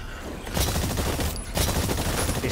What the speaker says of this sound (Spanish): Dispara al objetivo.